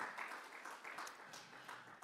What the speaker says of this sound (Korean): 우리 뜨거운 박수로 한번 환영하겠습니다